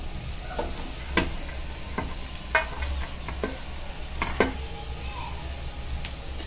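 Stone flower and spices dry-roasting in a pan for a country chicken curry, a light sizzle with intermittent spatula scrapes and clicks against the pan, close and moderately loud, with no talking.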